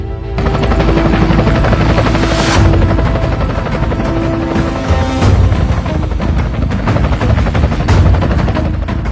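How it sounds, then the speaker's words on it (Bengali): A helicopter flies overhead with a loud, continuous rotor thumping and roar that swells and recedes over about nine seconds, dense and close with no talking. "এলাকায় হেলিকপ্টার কে নিয়ে আসলো?"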